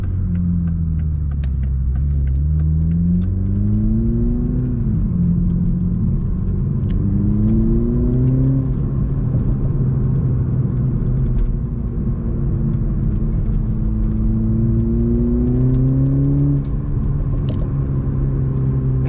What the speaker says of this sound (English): The exhaust note is really great in this car, and it gets a ton of attention.